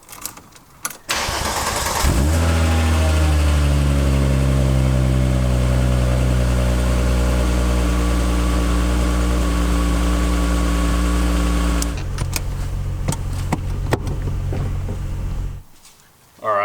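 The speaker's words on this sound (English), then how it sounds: "Let's move the car across to the other side of the garage now." A MK3 Golf VR6 engine cranks and catches at about two seconds, then runs steadily and close in an enclosed garage, idling with a deep even drone. A few sharp clicks and knocks come near the end before it cuts off.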